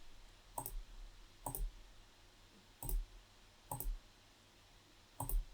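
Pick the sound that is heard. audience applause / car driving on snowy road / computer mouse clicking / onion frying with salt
computer mouse clicking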